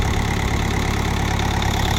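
Engine of a BOMAG RTK 455 road roller running steadily after repair for hard cranking and overheating, a loud, continuous close-up idle rumble with no pauses.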